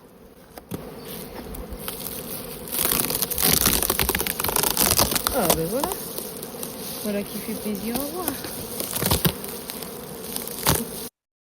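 Honeybees swarm a hive super, a dense continuous buzz under crackles and knocks as frames are handled, with a person speaking briefly in French over it.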